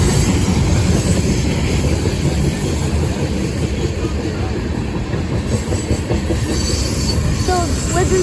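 BNSF Dash 9 locomotive hauling a train past the listener: a loud, close, continuous rumble of rolling cars, with metallic wheel squeal rising above it and faint clatter from the rails.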